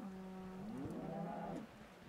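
A single cow moos in Minecraft, one loud, drawn-out, close moo lasting over a second against a quiet background with no talking.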